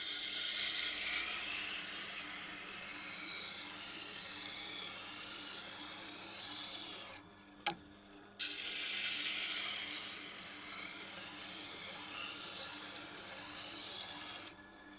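Tormek wet grinder sharpening a knife on a kangaroo tail rig, a steady hissing, scraping grind running continuously with a brief pause midway before the passes resume.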